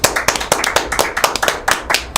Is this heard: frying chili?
no